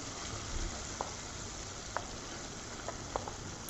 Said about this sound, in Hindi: और अब हम इसमें जो मैरिनेट किया हुआ चिकन है वो डाल देंगे।